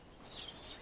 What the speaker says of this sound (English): Oh, the birds have started up.